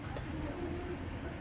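Racer pigeons at a pigeon farm give a low, soft cooing close by, a brief murmuring call over quiet background noise.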